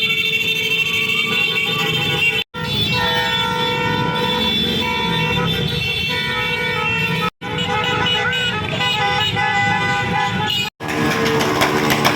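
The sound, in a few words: vehicles honking horns in torch parade traffic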